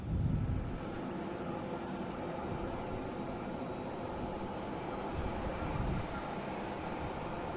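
Airliner jet at Boston Logan International Airport, a steady broadband engine roar that stays loud and even throughout with no talk over it, likely an aircraft passing or taxiing nearby.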